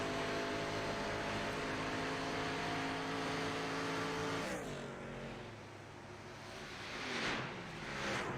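An ARCA Series race car, the number 6 car, passes a wall-mounted camera at Charlotte, its engine a sustained harmonic drone that sweeps down in pitch as it goes by, followed by quieter rushing passes.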